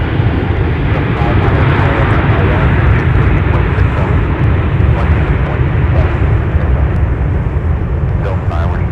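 Aircraft engines roar steadily at Minneapolis–St. Paul airport on a winter day, a loud continuous broadband rumble filling the whole span, with radio chatter from ground control heard over it.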